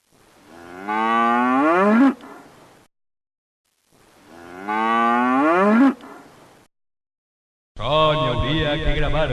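A cow gives two long, rising moos, each several seconds and heard close and clear, followed by a third harsher bellow at the end.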